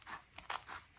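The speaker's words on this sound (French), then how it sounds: "Et je vais venir prendre ma paire de ciseaux." Fabric scissors snip through coat fabric while sewing the pockets of an ARA coat, giving a few close, crisp, crunchy cuts in quick succession.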